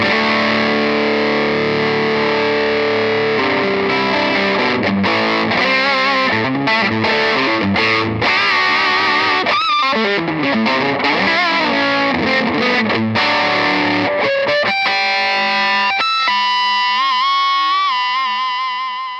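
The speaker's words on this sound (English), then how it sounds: "now if I hit, there's a clean boost on the Gristle King" Electric guitar played through a Gristle King amp with clean boost engaged, giving a thick, distorted tone with sustained notes and chords, then quicker runs and bends, continuous and loud with no talking.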